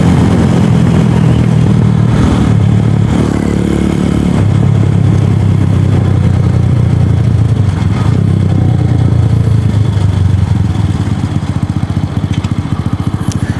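A Suzuki DF250RTS motorcycle cruises in third gear on a street ride with new sprockets, its engine droning loud and steady throughout with some rising and falling in pitch.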